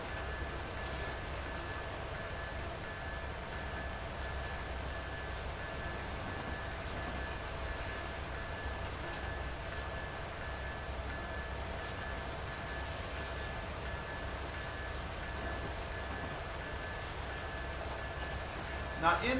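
A train on Sherman Hill rumbles past in a continuous low, steady roar, with faint sustained tones above it and no pauses.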